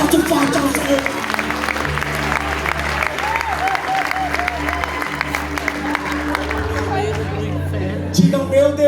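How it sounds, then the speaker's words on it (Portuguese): Church congregation applauding loudly, a sustained burst of clapping mixed with cheers and crowd babble, with music and voices underneath throughout. "Dá um aplauso forte ao Senhor."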